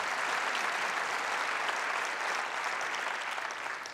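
Audience clapping at an address fills the whole stretch, a thick even wash of applause that tapers slightly toward the end, with no speech over it.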